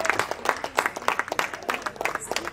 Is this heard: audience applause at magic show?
yes